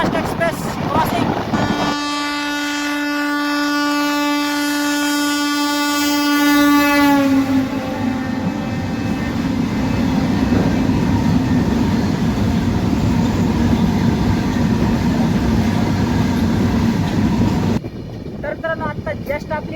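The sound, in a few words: CSMT Chennai Egmore Superfast Express train crossing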